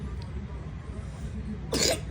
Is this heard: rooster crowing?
no